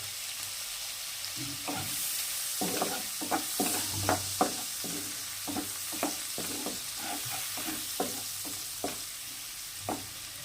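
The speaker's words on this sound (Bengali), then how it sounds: "চিংড়ি মাছগুলো আমরা খুব ভালোভাবে ভেজে নিয়েছি" Prawns frying in a pan, a steady close sizzle broken by repeated rhythmic scraping strokes of a spatula, about a dozen distinct stirs over the crackling oil.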